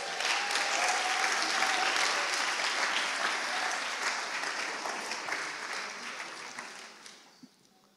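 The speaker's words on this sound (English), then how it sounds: "Give them a round of applause." A crowd claps and applauds loudly and steadily, the clapping gradually thinning out and fading away toward the end.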